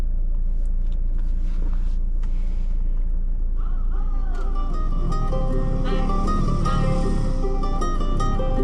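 A 2024 Jeep Meridian Overland 4x4 automatic SUV with a 2.0-litre 168 bhp diesel engine drives along. A steady low engine and road rumble fills the cabin and grows louder and busier after about four seconds.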